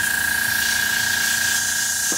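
An airbrush blows out a steady, loud hiss of air while being flushed clean after blending work, a continuous rushing stream running alone without pause.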